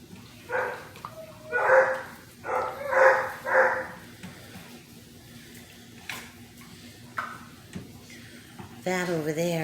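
Six-week-old basset hound puppies bark and yip at play, several short high barks in quick bursts up close, followed by scattered softer yips, with a person talking over the end.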